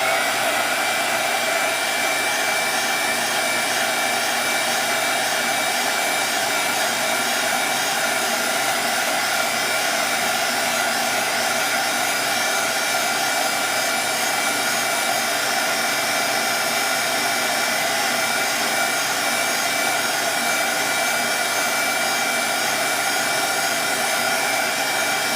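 Hair dryer blowing continuously on freshly painted artwork, a loud, steady whooshing roar with a faint whine that runs unchanged for the whole stretch, with no talking.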